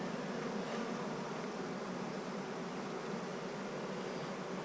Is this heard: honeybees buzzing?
yes